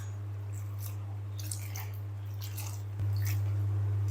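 Bitter gourd kneaded and washed by hand in a bowl of water gives soft, intermittent wet squelches and drips over a steady low electrical hum that grows louder near the end.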